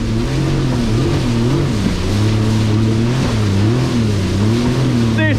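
A jet ski on Subic Bay screams at full throttle, its loud engine note rising and falling in continuous waves while water rushes beneath; a voice briefly speaks under the roar.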